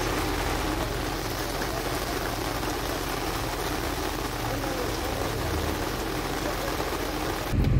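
Steady, dense hiss of rain falling in a Colombian village, constant and fairly loud throughout with no voices.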